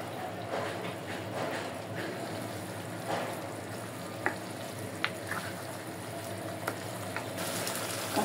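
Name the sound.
goat meat being sautéed in oil in a pan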